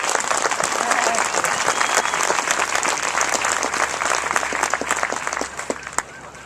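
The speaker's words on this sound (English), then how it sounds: "So give yourself a round of applause as well for all that you've done." Dense, steady applause from a large audience at a military parade pass in review and enlistment oath ceremony fills the air, loud and continuous before thinning slightly near the end.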